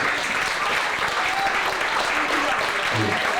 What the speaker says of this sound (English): let's give that hard-working brother a round of applause